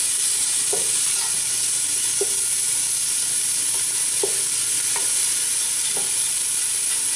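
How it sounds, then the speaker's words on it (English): Bacon sautéing in a pan until crispy for sweet and sour green beans, a constant close, bright sizzle with a few soft spoon taps and stirring scrapes spaced through it. "We are just going to saute up this bacon until it is done, nice and crispy"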